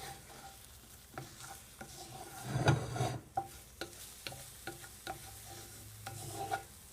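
Scrambled eggs sizzle steadily in a cast iron pan while a spatula stirs and flips them, with a run of close scraping taps and a louder scrape burst midway.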